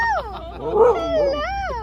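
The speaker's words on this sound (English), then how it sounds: "Oh, you have your doggy." A small dog at an outdoor market during the Sado Earth Celebration makes short whimpering, yelping sounds, close and moderately loud, while people chat nearby.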